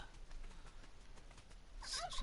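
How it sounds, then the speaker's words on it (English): Turkeys in Ark Survival Evolved gobble, a quiet rapid warbling burst near the end of a faint, steady background. "Stupid turkeys everywhere."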